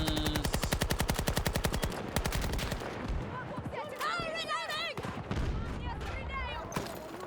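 Rapid video game gunfire bursts along, fast loud automatic shots for about two seconds, then scattered shots with game effects and chatter as a voice talks over it.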